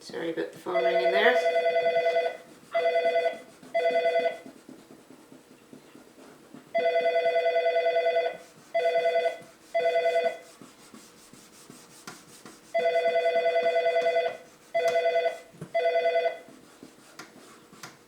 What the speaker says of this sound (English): Sorry about the phone ringing there.